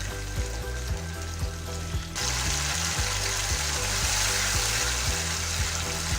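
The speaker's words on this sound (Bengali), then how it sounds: "টমেটো বাটাটাও আমি ভেজে নেব।" Tomato paste frying in a pan makes a close, steady sizzle that swells louder after about two seconds. Faint repeated low bumps, probably from stirring, run beneath it.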